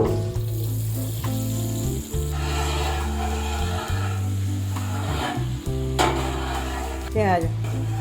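Butter sizzles and fries on a hot pan for Mumbai street-style pav bhaji, a steady hiss with stirring scrapes underneath prominent background music.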